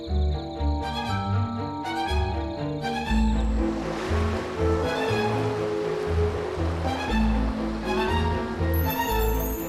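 Steady rushing surf with waves breaking continuously, mixed with a gentle music-box style melody playing over it.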